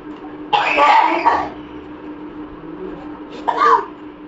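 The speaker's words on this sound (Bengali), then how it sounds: "কাশিটা যেন বেড়েছে জানো।" A person coughs close by in two separate bursts, the first a longer rough fit and the second a short hack a couple of seconds later, with quiet in between.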